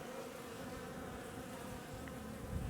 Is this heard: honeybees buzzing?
yes